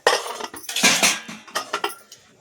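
A series of metallic clinks and clatters as a lid is set onto a new pressure cooker holding chicken sambar, several quick knocks followed by a final soft settle.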